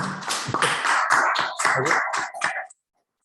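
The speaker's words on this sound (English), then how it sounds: "Give a round of applause for Dan, please." Clapping from a small group at a Linux user group meeting in uneven bursts, close and fairly loud, stopping abruptly into silence after a couple of seconds.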